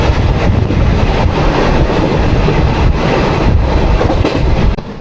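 A moving train between Agartala and Guwahati rumbles loudly and steadily, with rhythmic clickety-clack of the wheels and heavy wind buffeting close by.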